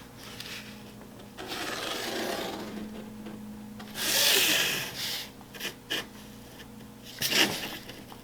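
A pencil is drawn along a ruler across a cardboard board, giving soft scratchy rubbing strokes in bursts. One longer, louder pass comes midway, then a few short scrapes follow.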